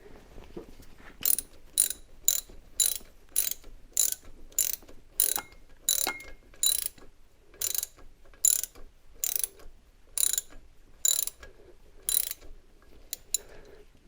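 A ratchet clicks in repeated quick bursts, about twenty strokes over the span, as a water pump bolt is tightened on a C3 Corvette with a 350 small-block; close and crisp with no talk.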